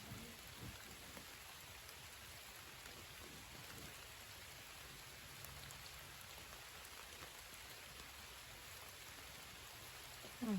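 Steady rain pours down for the whole stretch, a dense, even hiss of drops on surfaces with no voices.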